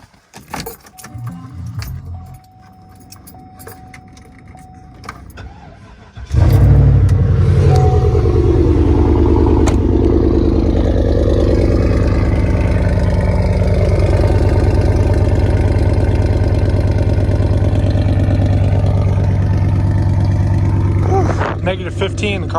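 A straight-piped Pontiac Bonneville GXP cold-starts after some faint jangling and handling noises, then settles into a loud, steady, deep rumbling idle that holds close by until near the end.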